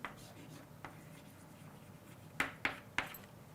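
Chalk or marker writing an equation for deuterium wavelength on a board, faint scratchy strokes with a few sharper taps near the end, quiet and close.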